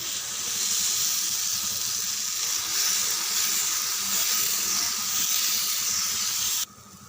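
Dosa batter spreading over a hot griddle gives a steady, close hissing sizzle that holds for several seconds, then drops abruptly quieter just before the end.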